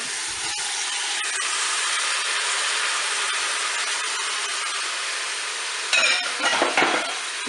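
Carrots and mushrooms being stirred as they brown in a Cookeo pot, a steady sizzle under scraping utensil strokes, with a few louder clatters of the spoon near the end.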